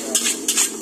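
Eggs are beaten in a bowl for Singapore fried rice, with three quick, close utensil clinks and stirring scrapes in a brief burst.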